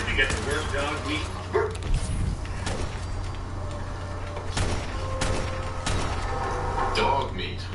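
A dog in the video game Fallout 4 gives several short barks and yips scattered across the stretch, mixed with game sound effects and a steady low hum.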